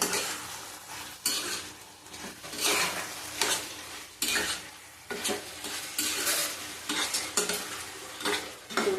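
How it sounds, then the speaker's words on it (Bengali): A spoon stirs prawn fritters into a curry in a metal pot, with scraping and clinking in uneven bursts over a soft sizzle, close and fairly loud, with no voices. "দেবো এই বড়াগুলি, ভালো করে মিশিয়ে নেবো"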